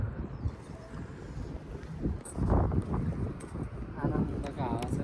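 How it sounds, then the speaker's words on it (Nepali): Gusty wind buffets the microphone outdoors on a green hillside overlooking Cochem, Germany, rising and falling in loud rumbling surges, with a person talking briefly near the end. "आनन्दको हावा छ"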